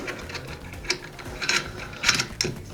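Allen key turning screws into a 48x24x18 reptile enclosure makes faint, irregular metallic clicks and ratchet-like ticks, close by, with no talking.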